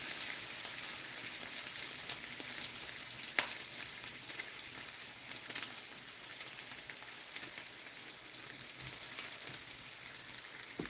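Bacon frying in a pan, a steady close crackling sizzle with occasional louder pops, continuous and fairly quiet with no voices.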